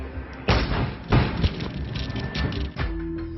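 A powerful explosion blasts down the iron gate of a transport company, a loud booming burst with rumbling thuds and debris that keeps crashing on, followed by a lower roar and a steady tone near the end.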